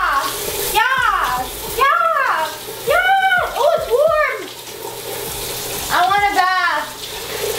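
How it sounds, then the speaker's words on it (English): A rainforest shower in a hotel bathroom pours water from overhead in a steady, close rush, while voices, including a child's, talk repeatedly over it. "It's a rainforest shower, so it like falls from the top."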